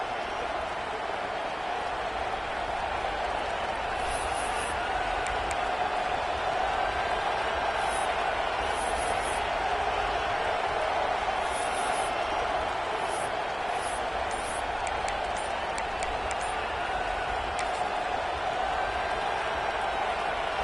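A stadium crowd in an American football video game produces a steady, loud, wash-like roar throughout, with faint higher accents now and then, continuous and distant-sounding rather than close.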